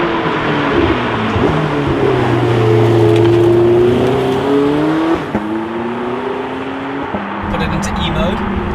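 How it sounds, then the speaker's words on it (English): A Porsche 918 Spyder engine fires up and revs loudly and steadily, with pitch rising and falling through several sweeps, then dips briefly before settling into a lower drone. Someone speaks over it. "with the flick of the paddle shift, it knew that I wanted to interact with the engine, and there we are, it just burst into life"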